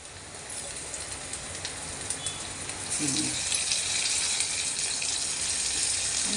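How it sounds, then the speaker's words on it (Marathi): Tomatoes sizzle and crackle steadily while being stirred and sautéed in a pan for a quick mixed vegetable dish, a continuous hissing fry that grows slightly louder midway, with no talking. "टोमॅटो असं हलवून पातून परतून घ्यायचं"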